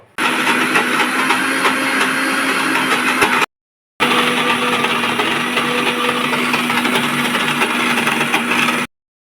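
Electric mixer grinder blending soaked biuli (urad) dal into a paste, a loud, steady motor whir in two runs split by a brief stop, close and with no talking.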